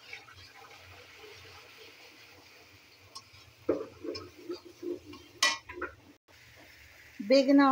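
Eggplant and potato go into a pan of frying spice mix, with quiet stirring at first, then clattering scrapes and knocks of a utensil against the pan and a voice at the end.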